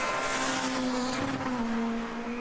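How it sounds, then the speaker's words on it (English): A Super 2000 rally car's 2-litre normally aspirated engine revs at a rally in Sweden, a high, sustained, close engine note that wavers slightly in pitch throughout. "Just listen to the difference in this engine note."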